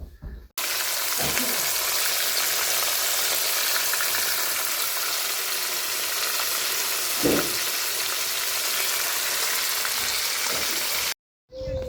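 Fish fries in hot vegetable oil with a loud, dense, unbroken sizzle that holds steady close by. A few soft knocks and a brief thump sit under the hiss, and a short silent gap comes just before the end.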